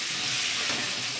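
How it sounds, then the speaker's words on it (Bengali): Potato pieces fry in hot oil for a meat curry, giving a brief, continuous, close hissing sizzle. "আলুটা আমি প্রথমে ভেজে তুলে নেব।"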